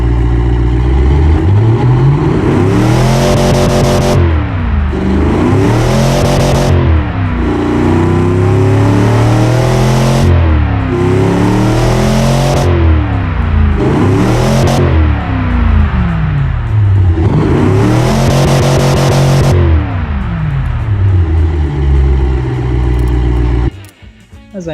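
Ford 351 Cleveland 2V V8 engine in the Automation car game, revved again and again with rising and falling sweeps, loud and steady throughout, then cutting out abruptly at the end.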